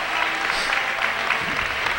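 Brief, continuous clapping fills a gym as the crowd applauds a player leaving the floor at a 2008 women's basketball game, NU Lady Miners against Tracy Lady Bulldogs, with an even, close, moderately loud texture.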